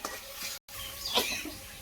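Turmeric and masala spices are stirred and fried in a pan for a village-style chicken curry, giving a soft, steady sizzle with scraping strokes and a brief gap of silence partway through.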